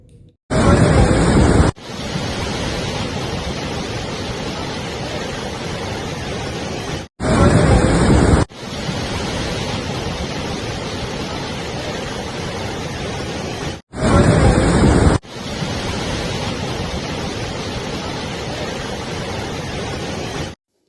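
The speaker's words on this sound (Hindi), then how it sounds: "मेनाल का झरना तेजी से बहने लगा है" The Menal waterfall on the Chittorgarh–Bhilwara border, running fast after monsoon rain, gives a steady, loud broadband roar. Three short bursts of harsher noise cut into it, each followed by a brief gap.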